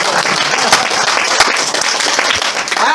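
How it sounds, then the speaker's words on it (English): Applause breaks out from an audience at a live talk, a burst of many hands clapping with a few sharper individual claps standing out, loud and busy, with a murmur of crowd voices beneath. "expecting applause on that one."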